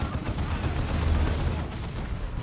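A plasma cannon fires in Warhammer 40,000: Dawn of War 2, a dense rumbling blast with a continuous heavy roar under the sound of battle.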